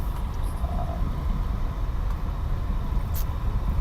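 Steady car engine and road rumble while driving slowly around North Hibiscus Island streets, a continuous moderate drone with no talk.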